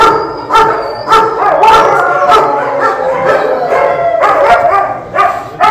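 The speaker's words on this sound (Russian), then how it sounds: "Вот смотрите, какие у нас собачки." Shelter dogs in pens at a new holding facility in Yakutsk bark loudly and howl together, with drawn-out howls running under clusters of sharp, close barks.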